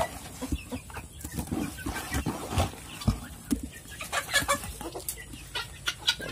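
Two-month-old chickens cluck busily while being fed bread, a dense, close flock of overlapping clucks and short calls throughout with no talking.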